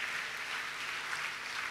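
Applause from a congregation during a church service, a faint, distant wash of steady clapping that holds evenly throughout with no voices over it.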